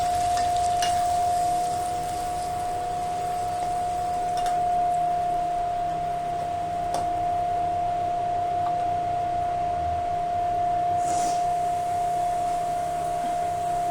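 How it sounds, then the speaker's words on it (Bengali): Spices and pointed gourd being fried and stirred down in a pan with milk nearby, a steady hiss running throughout with a constant tonal hum and occasional soft scrapes of stirring. "ভালো করে কষিয়ে নেব"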